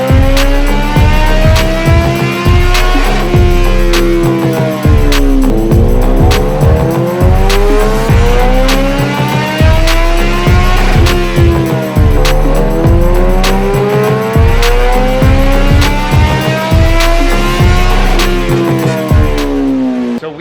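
A 2022 Kawasaki ZX-14R engine warms up, loud and close. It revs again and again in rising and falling sweeps, with a deep throbbing idle between the pulls.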